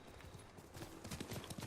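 Horse hooves clip-clop at a steady trot in the game Ghost of Tsushima, quiet and fairly close with a rhythmic clatter.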